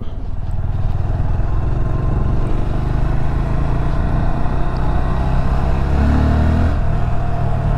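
A Honda Grom motorcycle fitted with a snorkel air box mod runs steadily up close, its low engine note holding loud and continuous, then rising briefly in a rev near the end.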